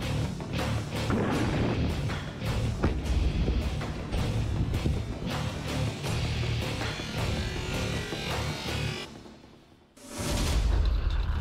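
Heavy bombardment in war footage from the Russia–Ukraine war, with dense booming blasts and crashing impacts rolling almost continuously, a brief lull, then another loud burst of explosions.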